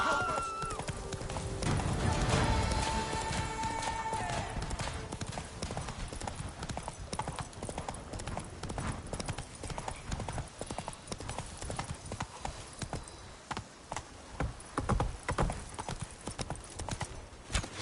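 Roach, Geralt's horse in The Witcher 3: Wild Hunt, gallops with steady, close hoofbeats that run the whole stretch, a brief whinny near the start, and game voices briefly over the early part.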